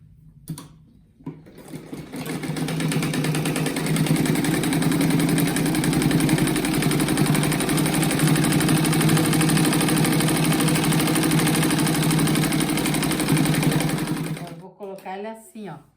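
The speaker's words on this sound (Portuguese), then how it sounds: "agora eu vou costurar aqui no meio" A sewing machine stitching through a rug made from reused materials runs in one long, loud, steady mechanical whir, starting after a short pause and stopping near the end.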